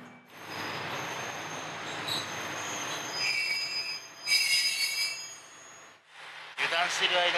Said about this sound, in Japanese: 油断している間に関西本線の列車来てしまいました。